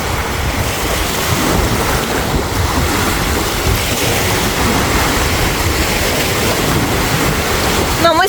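Strong wind and breaking waves on the shore of Lake Peipus, a loud continuous roar of wind buffeting the microphone over churning water, with no letup throughout.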